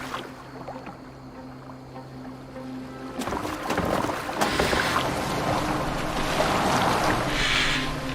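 A boat moves over open water in the video game Assassin's Creed Valhalla, with a steady wash of water and wind swelling louder after the first few seconds under a low ambient hum.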